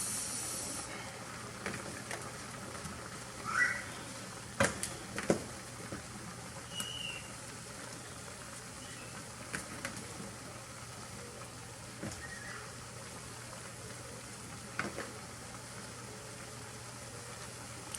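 Steady soft hiss of sweet potatoes steaming in a covered pot on a home stove, a continuous faint background rush with a few small clicks and clanks scattered through it, no one talking.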